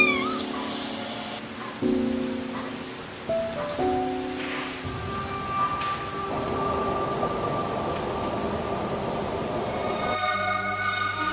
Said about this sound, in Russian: Кажется, еще один котенок мяукает.